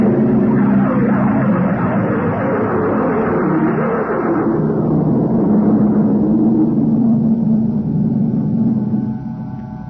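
A spaceship landing effect from an old-time sci-fi radio drama: a loud, continuous roaring rumble that shifts tone about halfway through, then settles and fades slightly at the end.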